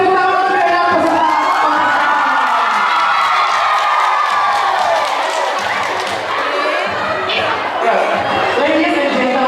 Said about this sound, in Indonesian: sekali lagi mana kita berikan tepuk tangan kepada peserta